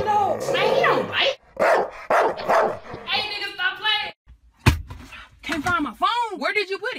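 A dog barks and yips amid a comedy vine compilation, short loud bursts mixed with excited whimpering, heard close and overlapping with people talking loudly.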